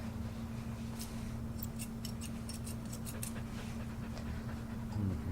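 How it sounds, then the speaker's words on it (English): Curved scissors snip loose hairs on a dog in short quick bursts of crisp clicks over a steady electrical hum, with a dog panting faintly in the background. "your curved scissors like this and just kind of, on an angle, lightly clean up any loose hairs"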